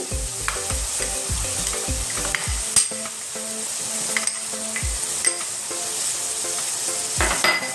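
Chicken curry with capsicum, seasoned with salt and turmeric, sizzles steadily in a pan while a spoon stirs it, scraping and knocking against the metal in uneven close strokes, with no one talking.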